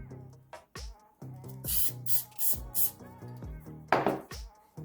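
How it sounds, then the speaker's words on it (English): Spray adhesive hisses in several short bursts onto the glossy side of a sheet of paper while building a 1/9 scale Punisher model, with tonal background music and some handling knocks between the bursts. "I'm going to attach it to that glossy side with some spray adhesive"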